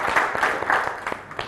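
A small audience applauds contestants in a brief, uneven patter of claps, moderately close, lasting little more than a second.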